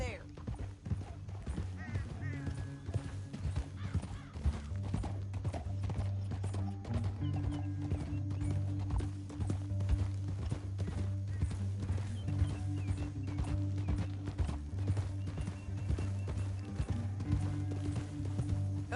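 Horses' hooves clip-clopping along a canyon trail in a western scene, a continuous irregular clatter of several animals walking, with a faint neigh and a steady musical drone underneath.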